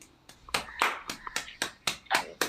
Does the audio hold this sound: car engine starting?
no